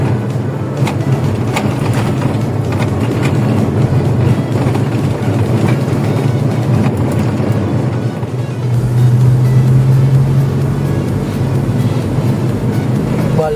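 A 1997 Toyota Kijang LGX engine, fueled with Pertamax Turbo, runs at a steady drone around 2000 rpm, loud and continuous throughout with no pauses.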